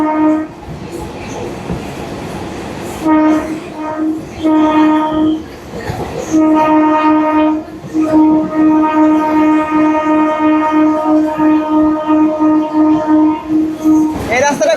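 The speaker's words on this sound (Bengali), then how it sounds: "রাস্তা, ট্রেন একেবারে বেঁকা হয়ে চলছে এই রাস্তাটায়" A passenger train runs along a curving line from Piratala toward Lalgola in the Sealdah division, heard from a seat just behind the engine: loud, steady rumble with long sustained whining tones, while a person talks over it.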